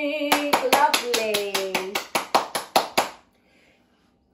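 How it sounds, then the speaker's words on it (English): Adults and small children at a music class clap their hands in time, about fourteen sharp, even claps under a sung line, stopping abruptly into near silence. "Everybody clap your hands"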